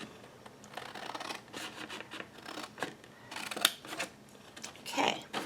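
Scissors cut along a score line in a paper stationery craft box, with close snips, scraping and rustling of paper in uneven bursts, no talk.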